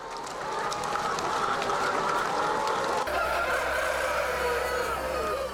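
Hens packed in battery cages on a mass-production egg farm keep up a dense, continuous clucking and squawking, a loud crowded din with no pauses and a low hum underneath.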